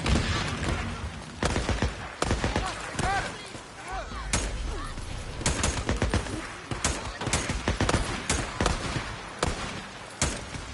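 Grenade blast and gunfire in a Days Gone horde fight on PS5/PS4: repeated sharp gun bursts and thumps, loud and close, run through the whole stretch while someone talks over the shooting.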